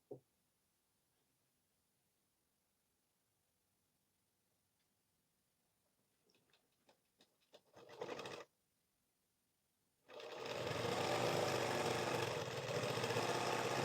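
A sewing machine stitches a blouse piece, starting with a few short ticking bursts of stitches and then running in a long, loud continuous whir after a brief pause.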